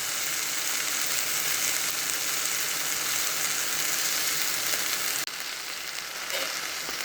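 Spiced masala with turmeric and chili powder fries in a pan for bassaru, giving a steady, close, hissing sizzle that continues throughout with a brief dip near the end. No voices.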